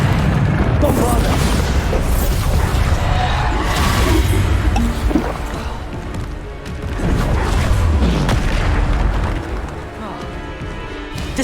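Bombarda explosion spells in Hogwarts Legacy, repeated booming blasts and crashing debris amid dense game combat effects, loud and continuous, with voices calling out over them.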